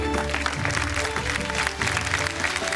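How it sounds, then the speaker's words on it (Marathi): Studio audience applause on a Marathi TV show, steady clapping set under music and tones, held at a moderate level throughout. "जोरदार टाळ्या होऊन जाऊ देत"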